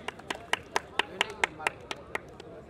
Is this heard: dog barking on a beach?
no